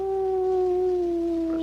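A dog howls in one long, steady, mournful tone that slides slightly downward, clear and close, with no other sounds.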